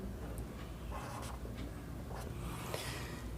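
Pen or pencil scratching on paper while numbers are written out by hand for a class 10 statistics mode problem, a steady soft scraping with faint strokes, close and quiet, no talk.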